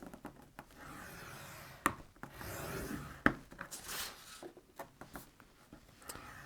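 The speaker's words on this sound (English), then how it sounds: "I'm going to score all 4 sides on 3/4 of an inch" A tool scores paper on a score board, making faint, close scraping strokes broken by a few sharp ticks and taps in a quiet room.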